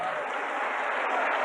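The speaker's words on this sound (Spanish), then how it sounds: "¿Quiere usted aplaudir al Señor?" A church congregation applauds during a Spanish-language worship service, a steady, dense wash of clapping held at an even level throughout.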